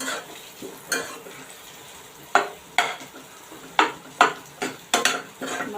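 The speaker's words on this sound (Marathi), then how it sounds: "तेलावर आधी आपण बटाटा चांगला परतून घेऊया" Potatoes for a fasting masala dosa filling sauté in hot oil with a steady sizzle, while a utensil scrapes and stirs the pan in several sharp, close strokes, clustered toward the end.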